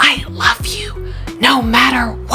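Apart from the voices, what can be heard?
No distinct noise like a dog, phone or traffic.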